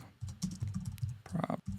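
Computer keyboard typing while entering shortcut keys, a rapid run of close, crisp keystrokes with short pauses, steady throughout.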